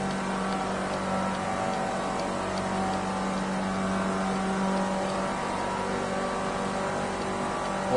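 Race car engines roar steadily in Project Cars 2, a continuous loud drone of several cars holding speed with little change in pitch and no talk over it.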